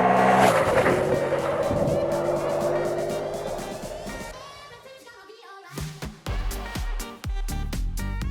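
A Ducati Multistrada V4 motorcycle in sport mode on an open road, its engine droning loud and close with a shifting pitch that eases off, then gives way to a run of sharp, heavy percussive hits.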